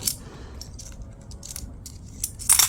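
Metallic clinks and light jingling of old coins, including some from 1919, being handled, soft scattered chinks building to a brighter clatter at the end, quiet and close.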